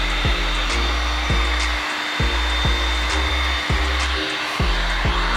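A heat gun blows hot air onto vinyl wrap film at a car's wheel well, making a steady close whooshing roar with a repeated rhythmic whine from the motor.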